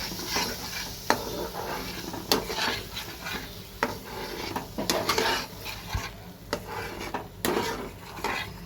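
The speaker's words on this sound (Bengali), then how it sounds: "এটাকেও একটু কষে নিতে হবে" Tomato puree for a small-prawn malai curry is sautéed in a pan, with a close, soft sizzle under repeated scraping and stirring strokes of a spatula against the metal.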